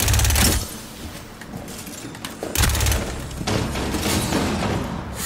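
Maestro shotgun gunfire in a tactical shooter video game: two heavy booming blasts about two and a half seconds apart, loud and close, followed by a lingering rumble and softer game noise.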